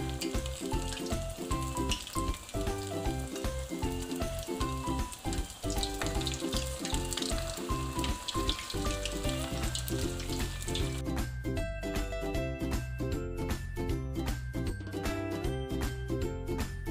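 Noodle balls made from instant noodles fry in coconut oil with a steady sizzle that runs throughout, largely covered by loud background music.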